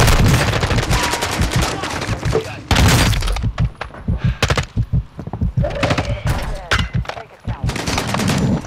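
Rapid bursts of video game gunfire crackle through a frantic multiplayer shootout, with dense automatic volleys and sharp single shots recurring throughout, loud and close, while players talk over the fighting.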